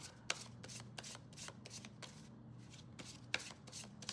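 A deck of tarot cards being shuffled, with a rapid series of crisp riffling card bursts in a steady rhythm, close and alone with no speech.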